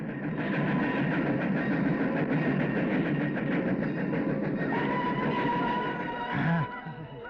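A train rumbles steadily past with a continuous rolling clatter of wheels on track, loud and close, fading slightly at the end.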